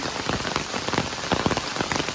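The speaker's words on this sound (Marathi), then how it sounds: "पाऊस खूपच पडतोय." Heavy rain pours down steadily, dense pattering drops drumming on a surface with no voices.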